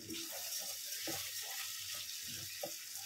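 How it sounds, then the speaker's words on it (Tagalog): Water runs steadily from a kitchen sink tap, a faint continuous splash with gurgling fluctuations as it fills, heard close and alone. "lagyan natin ng tubig. Tubig galing sa lababo."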